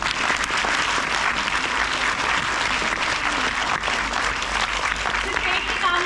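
Audience applause at a Hindi poetry recital, dense clapping from a crowd throughout, with a voice talking over it.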